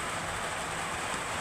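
Rain falls outside in a steady, even wash of hiss that holds at the same level throughout, with no voices over it.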